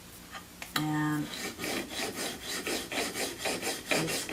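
A knife blade is stroked across a DMT Dia-Sharp 3 micron 8000 grit extra fine diamond plate, giving a series of close, rhythmic raspy scrapes, a tonal ring at the start, with no talk.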